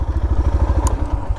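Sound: Yamaha FZ-S motorcycle riding

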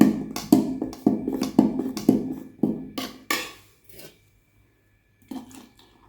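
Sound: straining homemade hibiscus shikakai shampoo through a strainer

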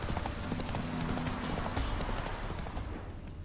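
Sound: horse galloping in video game The Witcher 3

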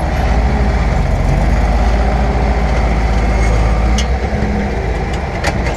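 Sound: tractor engine running

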